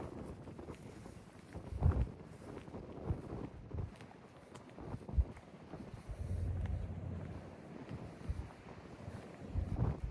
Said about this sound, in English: could you imagine listening to the wind for 24/7 only?